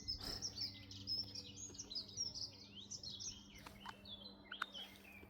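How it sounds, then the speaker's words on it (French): Several small birds chirp and twitter continuously outdoors, bright overlapping calls at moderate distance over a low steady hum. "Entendez ce chant des oiseaux."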